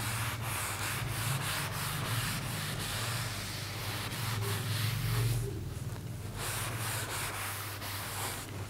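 Writing being rubbed off a classroom whiteboard, heard as a continuous close, loud scratchy rubbing with rhythmic back-and-forth strokes and a brief pause midway.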